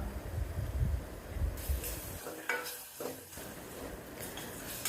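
Onions and tomatoes sauté in a pan, giving a low sizzle with scraping and clinking of a utensil stirring against the metal; faint, close and free of speech, with a brief quieter gap midway.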